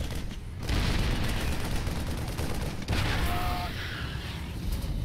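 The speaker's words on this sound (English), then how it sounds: "now they're just going to get eaten up by the siege tanks." StarCraft II battle with siege tanks firing on marines: a dense, continuous roar of explosions and gunfire, loud and sustained, with a brief dip before the barrage resumes.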